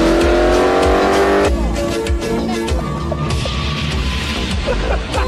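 A car skids and spins on pavement during a driving test, tires squealing and the engine revving loudly before a sharp jolt, then a rougher skidding noise carries on to the end.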